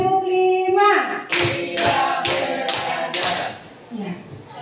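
Children clap together in a classroom clap game, a series of about five sharp, loud claps at a steady, spaced rhythm, with a voice speaking before them.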